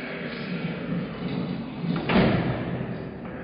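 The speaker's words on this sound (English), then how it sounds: "The gate was shut." A heavy gate slamming shut in a radio drama, a deep booming thud over a low rumbling bed, close and loud, standing alone amid the dramatized action.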